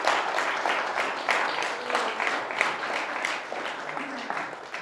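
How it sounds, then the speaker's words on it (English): Applause from a meet-up crowd fills the space, with a broad wash of hand clapping that holds steady and fairly loud before easing slightly toward the end. "huge round of applause"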